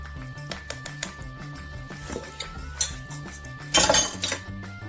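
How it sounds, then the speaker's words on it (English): Penne pasta tossed with meatball sauce gives repeated clinks and scrapes of a utensil against a pot or dish, an irregular rhythm ending in a louder clatter. "And mix it all with penne thoroughly."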